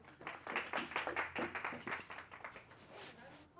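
A small seminar audience claps briefly after a mathematics talk, sparse and uneven hand claps at a modest level, with some voices mixed in.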